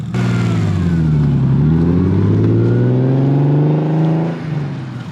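A turbocharged car engine with a built engine revs loudly and steadily, its pitch dipping and then climbing before easing off near the end, with a deep throaty tone throughout.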